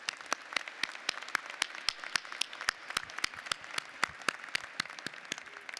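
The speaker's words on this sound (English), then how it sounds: "Let's give them a round of applause as well." Applause for Honors College graduates at a winter commencement, heard as a steady stream of distinct, separate claps from a modest number of hands, moderately distant and even throughout.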